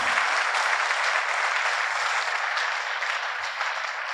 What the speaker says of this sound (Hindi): ताली बजा के परमेश्वर के धन्यवाद करें।